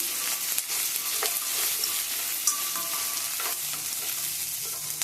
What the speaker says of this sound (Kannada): ಅಷ್ಟು ಗೋಡಂಬಿ ಹಾಕೊತೀನಿ ಇವಾಗ ಒಂದು ಸ್ವಲ್ಪ ಫ್ರೈ ಮಾಡ್ತೀನಿ